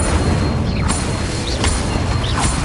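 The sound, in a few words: Incendio fire spell explosion in the video game Hogwarts Legacy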